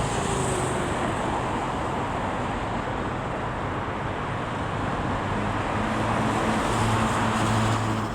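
Traffic streams along a big road beside a house, a constant close roar of passing cars with low engine hum and some wind buffeting, no voices.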